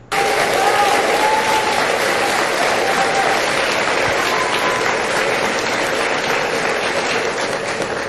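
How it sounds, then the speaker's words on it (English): Sustained applause from a large audience, dense and loud throughout, with no break in the clapping. "they clap for that."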